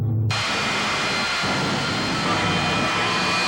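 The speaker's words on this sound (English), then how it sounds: "This is TV Tommy Ivo's latest race car, his jet-powered dragster" A jet-powered dragster race car engine roars loud and steady from start to finish, a continuous broadband blast of jet thrust with no talking over it.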